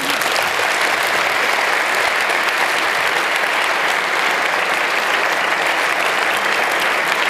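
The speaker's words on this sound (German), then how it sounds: "Gebt ihm einen herzlichen Applaus." Sustained, dense applause from a conference audience at the end of a German-language talk at the 27C3 hacker congress, steady and loud throughout with no talk over it.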